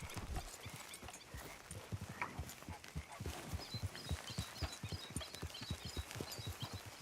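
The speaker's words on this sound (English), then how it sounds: "Grab your horse and let's go." Horse hooves clip-clop at a steady trot in the video game Red Dead Redemption 2, a fairly close, regular rhythm of soft thuds running throughout over a faint outdoor ambience.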